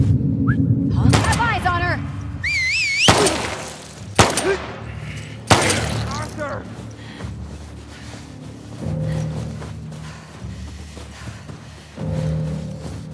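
Gunfire in The Last of Us Part II Remastered: several sharp, scattered shots with echoing tails ring out across a quiet stretch, with a few whistling in-game sounds in between.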